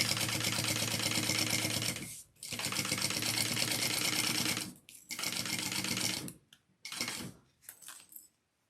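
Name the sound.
sewing machine stitching a handbag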